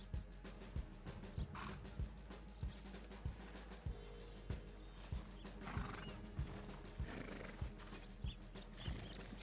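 Horse in the 1898 GoldRush RP video game, with steady rhythmic clip-clop hoofbeats and occasional neighing at a faint level, alone without speech.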